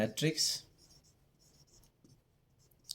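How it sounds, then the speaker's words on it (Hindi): Marker or chalk strokes on a classroom board while a row-matrix definition is written, a short scratchy burst at the start followed by fainter scattered strokes under quiet room tone. "तो पहले डेफिनेशन लिखते हैं।"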